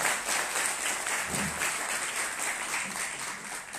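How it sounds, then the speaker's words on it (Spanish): Audience at a panel on Mexican customs and tax law breaks into dense, continuous applause, steady and full throughout with no voices over it. "Por favor, démosle un gran aplauso."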